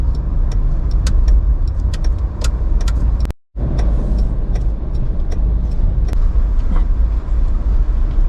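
A car driving along a rural road to a hillside campsite in Chonburi, Thailand, giving a loud, steady engine and road rumble with a brief cut in the middle.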